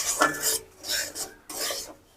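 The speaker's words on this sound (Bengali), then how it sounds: "ঘিতে সুজিটা একটু ভালো করে একটু ভেজে নিতে হবে।" Semolina being stirred and fried in ghee in a pan, with three scraping, rasping strokes of a spoon against the pan, close and clear, with no talk.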